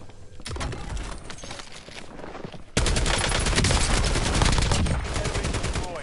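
Rapid automatic gunfire from a Black Ops 6 Warzone firefight, loud and dense bursts that swell into a sustained, heavier volley midway through.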